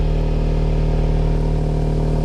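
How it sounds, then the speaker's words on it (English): Borla ATAK exhaust on a 2025 Jeep Wrangler Rubicon with a 2-liter turbo four-cylinder, a steady loud engine drone with a low rumbling pulse, close and continuous without talk. "That was the install of a Borla ATAK exhaust on a new Rubicon."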